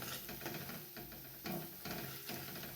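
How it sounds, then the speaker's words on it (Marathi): A spoon scrapes around a pan as coriander powder is mixed into a frying masala for drumstick (shevga) fry, with soft rhythmic stirring strokes over a faint steady sizzle. "हे धन पावडर, हे सुद्धा मिक्स करून घ्या।"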